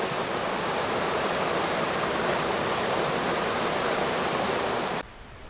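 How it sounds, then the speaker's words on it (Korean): Steady, dense roar of the 68 m Biryong waterfall on Mount Baekdu, a continuous broadband rush of falling water heard alone, cutting off sharply near the end. "68m 높이에서 떨어지는 물소리는 마치 천상에서 지상으로 떨어지는 것 마냥 우레소리를 내뿜는다"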